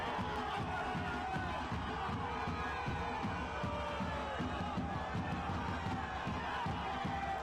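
A football crowd at a Rhode Island FC match against Charleston Battery makes a steady, distant roar of cheering and noise during a corner kick, with commentary running over it.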